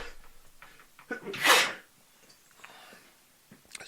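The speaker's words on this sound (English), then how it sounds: "Hold on, I'm going to sneeze." A single loud sneeze bursts out in a quiet room, preceded by a short sharp inhale and followed by faint breathing.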